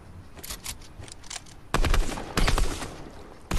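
Automatic AUG rifle fire in a Fortnite match, several short bursts of shots, loud and close, with a quieter patch of distant shots between them.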